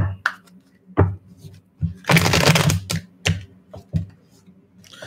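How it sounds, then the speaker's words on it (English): Tarot cards shuffled in the hands, giving bursts of riffling and tapping clatter with short pauses between, one longer sustained riffle in the middle, close and fairly loud with no talking. "Let's do one more shuffle."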